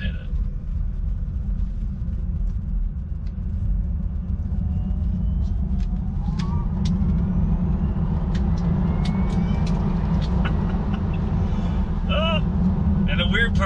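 Lucid Air electric sedan accelerating hard on a smooth road, a steady low rumble of tyres and motion with a rising electric whine, close and continuous for several seconds.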